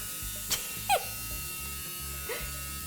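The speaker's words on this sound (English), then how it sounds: "shave all the facial hair, the whole beard, the whole mustache" A steady low electric razor buzz runs throughout as a full beard and mustache are shaved off, with a couple of brief louder sweeps and faint voice sounds near the start and again near the end.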